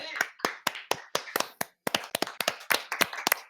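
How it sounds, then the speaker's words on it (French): Sharp, distinct handclaps in an uneven rhythm, about twenty claps over a few seconds with a brief pause midway, close and fairly quiet, sounding like a small group or single person clapping rather than a big crowd. "On applaudit."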